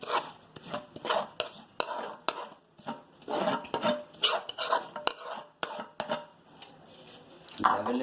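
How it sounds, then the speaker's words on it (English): A spatula scrapes and levels a warm sesame and jaggery mixture on a ghee-greased plate, making repeated rasping, scraping strokes in an uneven rhythm, close up and fairly quiet. "Level it out properly."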